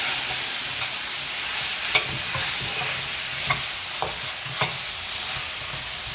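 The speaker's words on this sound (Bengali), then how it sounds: "এখন আলু আর সাজনা একসাথে দিয়ে দিলাম। দেখেন সুন্দর করে ভালো করে কষাইয়ে নিন।" Potatoes and drumsticks stir-fried in a tomato spice masala sizzle steadily in a pan, with a spatula scraping and clacking against the metal every second or so, close and continuous.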